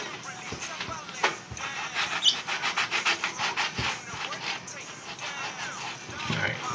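Repeated brisk rubbing strokes on a shoe, quick scrubbing swipes with a toothbrush and baking soda cleaner in a steady rhythm, close up.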